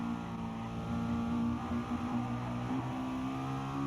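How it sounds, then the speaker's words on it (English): A McLaren race car engine in the video game GT Sport drones and revs steadily up close, a continuous tonal whine shifting slightly in pitch, with no voices over it. "so you can hear this McLaren"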